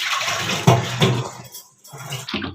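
Running water splashes steadily while tomatoes are washed in a home kitchen during Odia cooking, a close rushing flow with brief gaps and bursts.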